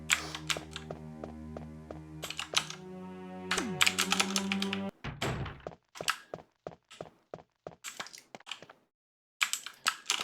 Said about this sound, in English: Hope you like the sound of my keyboard